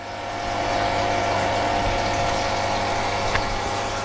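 The water pump of a Lay-Z-Spa Palm Springs Airjet inflatable hot tub runs steadily, a loud close whir and rush of flowing water with no talking.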